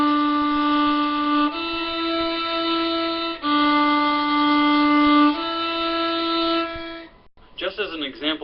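A fiddle plays exercise 19 as sustained, clear bowed notes, four long tones in a row with slight pitch changes between them, followed by a brief spoken voice at the end.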